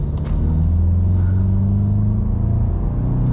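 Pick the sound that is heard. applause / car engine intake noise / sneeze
car engine intake noise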